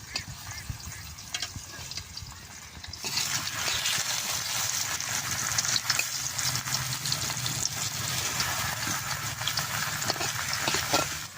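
Pieces of ash gourd frying in hot oil: a soft bubbling start that swells into a dense, steady, hissing sizzle, close and continuous, with no talking.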